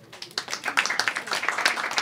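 An audience at a stand-up comedy show breaks into brisk, continuous clapping, a dense and fairly close patter of many hands holding steady for a couple of seconds.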